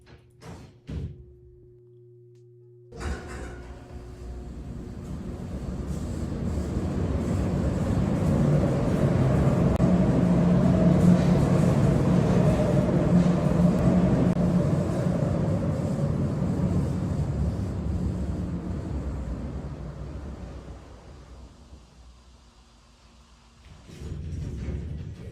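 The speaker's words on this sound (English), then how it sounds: "I call this one the train ovator. Because it sounds just like the trains echoing in the tunnel." Elevator in a video game descending, a long rumbling roar like trains echoing in a tunnel that swells to a loud peak and fades after about twenty seconds.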